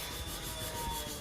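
Wet-and-dry paper in rough 120 grit rubs back and forth during wet sanding, a short, close, continuous scrubbing sound.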